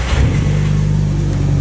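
A Nissan S14 engine with a newly fitted fuel pump revs hard under throttle, a loud, close, steady roar with the pitch holding high through a short burst.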